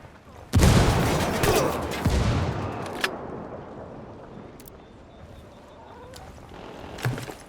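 Gunfire in the tactical shooter Ghost Recon Wildlands: a sudden loud burst of rapid shots opens, then further reports and a booming blast rumble and fade, with scattered sharp shots near the end.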